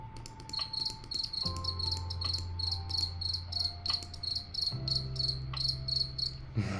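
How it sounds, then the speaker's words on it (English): Steady, rhythmic cricket chirping repeats throughout, high-pitched and fairly close, with a low hum running underneath and no voices. "All I hear is crickets."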